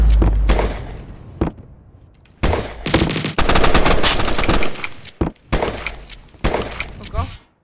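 Bursts of automatic gunfire and rapid single shots ring out in a team deathmatch video game, coming in loud, uneven volleys separated by short pauses, with players talking between them.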